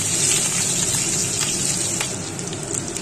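Green chilies tossed into hot oil in a frying pan for an egg pasta dish give off a loud, steady, dense hissing sizzle that holds for the whole stretch and eases slightly near the end.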